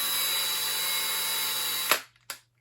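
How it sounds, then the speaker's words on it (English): A power drill bores into a .223 brass cartridge case during case preparation, a steady high whine that cuts off abruptly and is followed by a short second burst. "you're just going to drill it"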